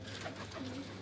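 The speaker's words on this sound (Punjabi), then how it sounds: "ਕਾਲੀ ਚੀਨੀ ਕਬੂਤਰੀ ਪਹਿਲੀ ਵਾਰੀ ਵੇਖੀ ਹੈ ਜੀ" A black Chinese pigeon coos softly in a brief low call over a steady background hum.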